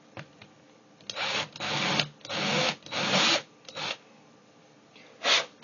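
A file working a chamfer on a water faucet part, heard as a series of rhythmic rasping strokes, each about half a second long, close and fairly loud, with short pauses between them and no talk.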